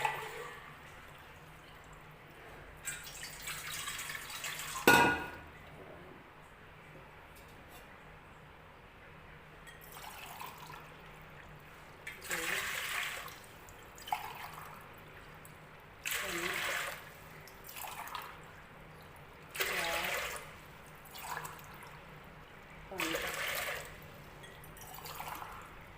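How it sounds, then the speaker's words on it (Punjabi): Water splashes into a glass of rice in several short pours, separated by quiet pauses, with one sharp clink early on. "ਪਾਣੀ ਪਾਵਾਂਗੇ 10 ਗੁਣਾ ਜ਼ਿਆਦਾ"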